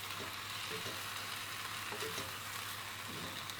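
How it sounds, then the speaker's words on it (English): Close, steady sizzle of a mushroom and pepper one-pot with tinned tomatoes as it is stirred, continuous frying hiss with soft scraping of the spoon and no talking. "while we're still stirring"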